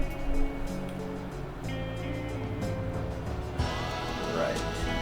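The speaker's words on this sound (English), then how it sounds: "Let's shake this up and make sure that it's all mixed good before we pour it." A cocktail with cream of coconut is shaken hard in a shaker, giving a steady, noisy rattle that runs for several seconds over faint background music.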